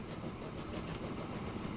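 A passenger train running in the video game Transport Fever 2 gives a continuous rumbling, rattling roll at moderate loudness, steady from start to end with no voices over it.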